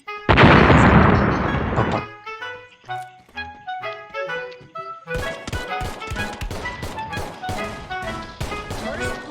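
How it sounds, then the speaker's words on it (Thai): A grenade blast in a 4v4 online shooting game bursts loud and broadband for about two seconds, then gives way to a busy stream of gunfire, clicks and game effects. "ก่อนศัตรูซ้ำศัตรูก็ปาระเบิดก่อนนะครับ"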